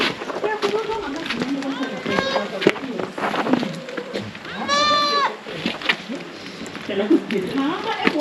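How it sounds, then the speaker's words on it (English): Kalahari, Boer and Matabele goats and young kids on a farm bleat loudly and repeatedly at close range, with one long wavering cry standing out, mixed with shuffling movement and people talking nearby. "So what type of goats are these? Kalahari and Boers and Matabele babies, eh?"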